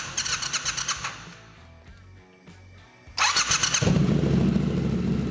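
A motorcycle engine cranks with rapid pulses, briefly quiets, then fires up and revs loudly into a steady rumbling idle, close by.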